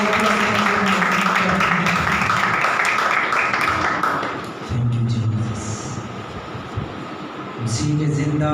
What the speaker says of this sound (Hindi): आइए जोरदार तालियों में खुदा के पाक को